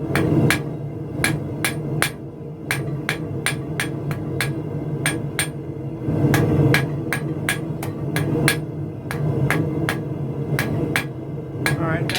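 Rapid hammer blows ring out on thin gas pipe stock being squared up at the anvil during forging, a steady run of sharp metallic strikes over a constant background hum.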